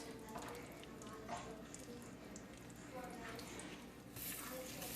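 Salmon laid skin-down in hot olive oil gives a steady, close sizzle and crackle that runs throughout, with soft stirring and handling noises now and then.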